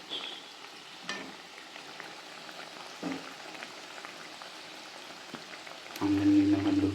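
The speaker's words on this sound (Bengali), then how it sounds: "তো মাঝখানে এনে রাখি, ডুবে ডুবে ভাজা হবে তাড়াতাড়ি।" Cauliflower pakoras deep-fry in hot oil, giving a low, steady bubbling hiss with a few brief clicks, and a louder burst of frying noise near the end.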